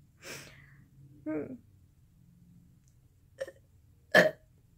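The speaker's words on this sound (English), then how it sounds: "I was preparing for the burp that I felt, like, deep in my chest." A single short burp from a teenage girl, a brief throaty bark near the end after a few quiet breathy vocal sounds.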